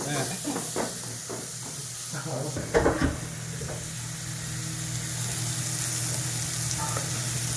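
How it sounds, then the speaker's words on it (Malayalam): Steady sizzling of onions softening in a pan in a shared mess kitchen in Saudi Arabia, with a few clinks and stirring scrapes early on, continuing as an even hiss. "ഉള്ളി വാട്ടി എടുക്കണ്"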